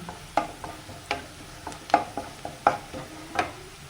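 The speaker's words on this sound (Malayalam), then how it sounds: "ഉള്ളി വെളുത്തുള്ളി കറിവേപ്പില വാടി വരുന്നുണ്ട്" Onion, garlic and curry leaves fry in a pan for spinach and egg stir-fry, giving a soft steady sizzle broken by about six sharp scrapes and clinks of a spoon stirring against the pan.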